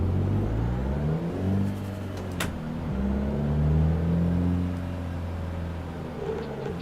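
A car drifting in the racing sim Assetto Corsa, heard as a droning engine whose pitch rises and falls through revs, with a brief sharp transient midway and no voices.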